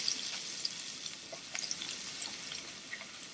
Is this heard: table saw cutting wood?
no